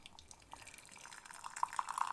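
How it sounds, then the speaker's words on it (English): Hot water is poured into a Snoopy mug for rooibos tea, starting as faint trickles and rising into a rapid bubbling fill, quiet and close, with no voices. "there's a Snoopy mug, hot water, pour in"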